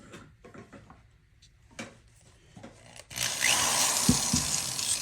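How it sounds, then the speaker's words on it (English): After some faint clatter and handling noises, a power drill fitted with a 9mm cleaning brush whirs on abruptly and spins loudly and steadily until the end, cleaning a Glock 43X barrel. "I will attach it to the drill"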